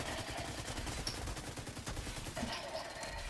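Rapid automatic gunfire from a firefight in The Division 2, a continuous dense rattle of shots at steady loudness with a few brief bright accents over the top.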